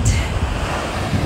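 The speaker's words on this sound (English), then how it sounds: "The wind." Wind rushes over a shore as waves break, a brief, loud, close roar of surf and gusting air buffeting the microphone.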